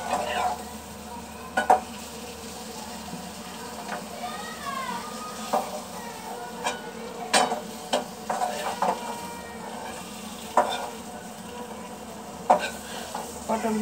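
Pointed gourd pieces frying in a pan give a steady close sizzle, broken by repeated sharp scrapes and clicks as a utensil stirs them.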